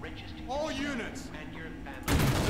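A grenade explosion in the video game TimeShift: a sudden loud broadband blast bursts in near the end, following a stretch of a voice talking over low game rumble.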